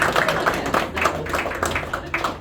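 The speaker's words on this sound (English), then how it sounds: "A round of applause for our 3 participants." An audience claps for three participants at a magic show in Nashville, a short burst of moderate, fairly close applause with uneven, scattered hand claps.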